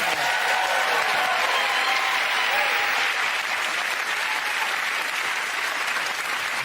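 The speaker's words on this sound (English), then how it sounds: "Get that round of applause to Frankie, Hugh and Tom." Studio audience of a comedy panel show breaks into loud, dense applause that holds steady throughout, with cheering mixed in and a voice briefly audible at the start.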